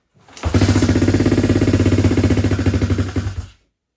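A pit bike engine fires up and runs with a loud, close, rapid rattling putter for about three seconds before cutting off, its throbbing pulses steady and slightly uneven.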